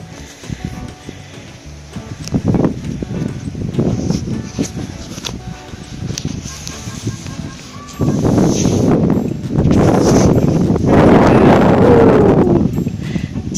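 Gusty wind buffets a microphone outdoors, producing irregular low rumbling thumps that grow heavier and more constant in the second half, with faint speech now and then.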